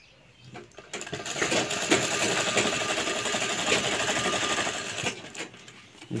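A sewing machine runs steadily for about four seconds, stitching a pocket onto a kurta, a close, continuous whirring hum with a faint rhythmic needle patter, quiet before and after.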